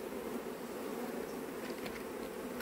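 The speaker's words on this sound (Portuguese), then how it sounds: "Muita abelha, pessoal." Many honeybees swarm around a hive being rescued from a wooden stump, a dense, continuous buzzing drone that stays close and steady throughout with no voices.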